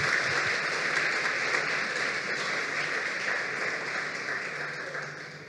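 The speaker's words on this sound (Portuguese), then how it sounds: "Vamos aplaudir o Senhor por isso?" Church congregation applauding during a sermon, a steady, dense wash of clapping that fades slightly toward the end, with no talking over it.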